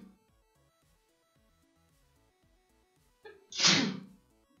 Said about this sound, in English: The sneezes just come out of nowhere.